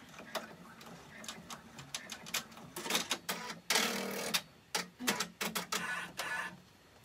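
A Brother PR655 embroidery machine runs a thread-cutting cycle, with close mechanical whirs, clicks and ratcheting bursts in an irregular sequence, some louder motor pulses in the middle.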